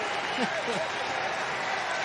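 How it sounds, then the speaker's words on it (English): A baseball stadium crowd at a 2021 Braves vs Phillies game cheers and applauds as a dense, steady roar, with a voice talking over it. "Listen to the crowd, huh?"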